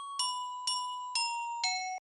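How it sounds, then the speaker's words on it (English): A glockenspiel plays four evenly spaced bright struck notes over a sustained tone in a music production, each ringing briefly with shimmering metallic overtones, clear and alone. "Then I layered that with a glockenspiel"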